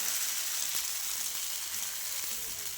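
Fasting dosa batter frying on a hot pan, a steady close sizzle with a bright hiss that holds evenly throughout, with a faint tick or two beneath it.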